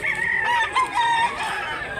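A rooster at a village cockfighting fowl sale in Mantalungon, Barili, Cebu crows in a loud, drawn-out call with several stretched, wavering notes, fairly close and heard alone.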